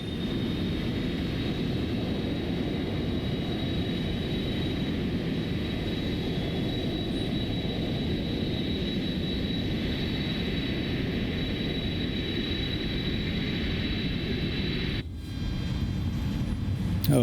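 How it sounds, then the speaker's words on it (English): Continuous loud engine roar and broadband whine from an Airbus A310 engine starting up in Microsoft Flight Simulator, with a thin steady high tone running throughout and a brief dip near the end. "Engine number 2 starting up."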